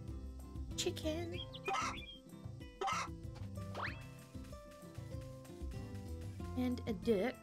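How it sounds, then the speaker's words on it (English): A chicken clucks in a cozy video game, several short calls scattered over game music while a person talks throughout. "Chicken."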